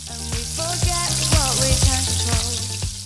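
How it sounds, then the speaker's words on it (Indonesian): Smoked duck fries in hot oil with a steady, loud sizzle and crackle, while intermittent clinks and stirring knocks from a utensil sound close by throughout. "Goreng bebeknya di minyak panas."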